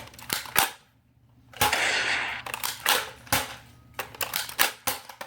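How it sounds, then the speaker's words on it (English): A toy Nerf blaster fires foam darts in a few sharp, snappy pops spread over several seconds, each crack close and loud against a quiet room. "You got the little darts loaded in there. So spin it. Let's shoot this baby."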